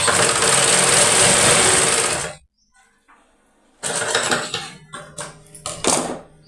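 A sewing machine stitches a straight seam on a blouse, running loud and steady with a fast mechanical whir. It stops for over a second, then starts again in shorter, uneven bursts.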